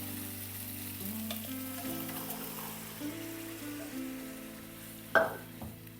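Chole gravy with mashed potato pieces mixed into a tomato-onion base cooks in a pan, giving a soft continuous sizzle and bubbling under steady background music, with one sharp utensil clink near the end.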